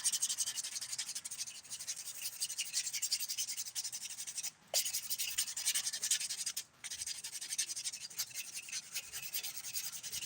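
A nail buffer rubs back and forth over already smoothed nails during a glitter ombré dip powder manicure. The scratchy strokes are soft, close and steady, with two short pauses.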